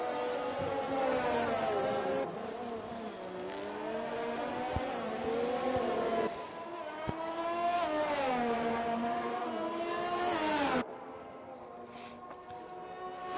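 An F3 race car in a racing video game, on the Netherlands round, roars past with a loud, continuous engine whine that climbs and drops in pitch through gear changes, then cuts abruptly to a quieter tone.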